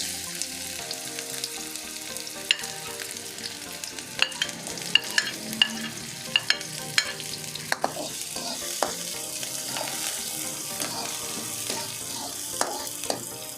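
Onions frying and sizzling in hot oil in a pan while being stirred, a steady crackle with scattered sharp clicks and scrapes of a utensil, close and continuous with no talk.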